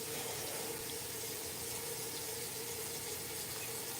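Tap water runs steadily into a sink while makeup brushes are rinsed, a continuous even hiss and splash that stays constant and close throughout, with no talking.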